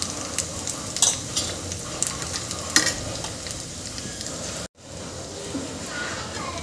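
Green chilli and garlic sautéing in a pan as turmeric is added, for a bottle gourd dish: a busy sizzle with scraping stir strokes and light utensil clicks, cut by a brief gap near the end.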